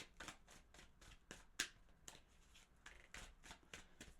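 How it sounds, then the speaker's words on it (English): Tarot cards being shuffled by hand, soft repeated riffles and shuffles in a quiet room, with one sharper snap partway through. "Couple of shuffles."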